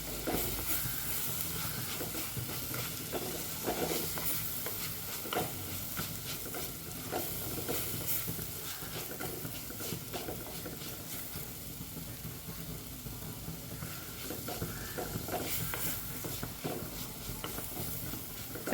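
Sardine peera being stirred in a pan, a soft, steady sizzle with repeated light scraping and shuffling strokes over a long stretch, fairly quiet and free of talk.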